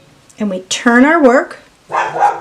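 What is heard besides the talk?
dog barking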